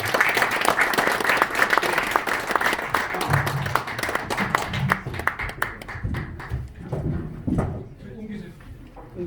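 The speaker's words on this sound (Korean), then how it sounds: "큰 박수를 좀 보내주십니다." An audience at a panel debate applauds in a dense wave of clapping that fades gradually over several seconds, with a voice speaking over the tail end.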